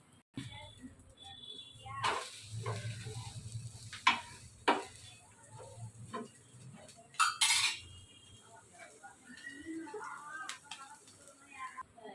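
An egg dosa is flipped on a pan with sharp metal spatula scrapes and clinks against the hot surface, a few distinct knocks over a soft background sizzle, with a person talking intermittently.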